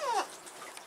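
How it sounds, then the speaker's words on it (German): A parrot in an aviary lets out a brief laughing call: one short, high, descending whistly squeal at the start, then fading into quiet background. "Ach, da lacht der Vogel."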